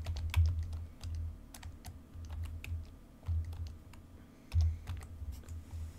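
Keys on a computer keyboard being typed while entering a network address into firewall settings, quiet irregular clicks in short bursts with a few heavier thumps, close and alone with no voice.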